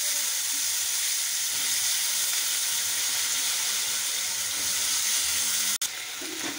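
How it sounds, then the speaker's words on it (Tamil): Cut brinjal added to a hot pan with fried dal, giving a steady broadband sizzle and hiss that stays loud throughout, broken near the end by a sharp clack. "இப்போ நம்ம கட் பண்ணி வச்சிருக்க கத்திரிக்காவை உள்ள ஆட் பண்ணிடலாம்"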